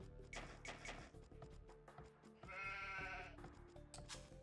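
Sheep bleat repeatedly in an Age of Empires II match, the animal calls standing out over steady game music and interface clicks, loud and close throughout.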